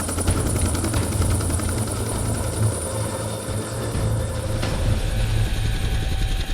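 A helicopter at a search and rescue competition roars loud and close, its steady rotor thump and engine whine holding throughout with no talk.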